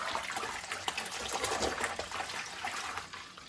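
Warm tap water runs steadily while a Sega Dreamcast controller is washed under it with small brushes and a scouring pad, a continuous splashing trickle at moderate level with no voices.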